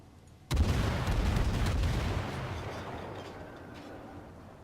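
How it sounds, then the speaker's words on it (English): Ship guns fire a heavy salvo at the Tirpitz in World of Warships, a sudden loud booming blast followed by a long rumbling roar that slowly fades. "Technically, I can shoot at that Tirpitz, and he can't see me."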